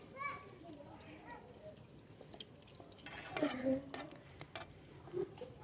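Herbal mixture being stirred as it melts in hot oil, faint scraping and clinking of a utensil against the pan with a soft sizzle, quiet and intermittent, under a voice talking.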